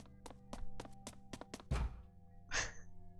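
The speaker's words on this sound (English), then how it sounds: "that was the noise of her running over and then banging her hand on the table" Footsteps of a character running over in Virtue's Last Reward, a series of quick thuds, then a heavy hand bang on a table followed by a second thump, close and with no talk.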